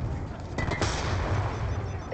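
Gunfire from the video game Call of Duty Black Ops II: a dense, continuous crackle of rapid shots that holds steady and loud for the whole two seconds, with no voices over it.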